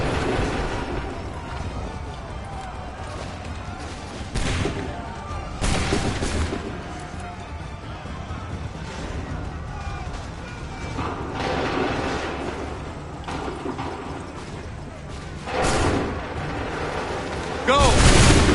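Musket volleys and cannon-like booms in Assassin's Creed III Remastered on PS4, a battlefield exchange of repeated loud bursts every few seconds over continuous rumbling combat noise, with shouted voices.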